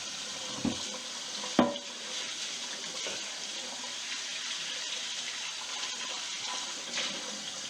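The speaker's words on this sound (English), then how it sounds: "Rinse it off nicely. Get her all rinsed off." Tap water runs steadily over a cast iron fry pan being rinsed, a continuous splashing flow broken by a few louder clanks and knocks of the pan early on.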